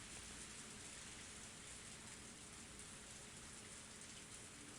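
Torrential downpour in Higurashi: When They Cry, a faint, dense, unbroken hiss of heavy rain falling on surfaces, steady throughout with no voices.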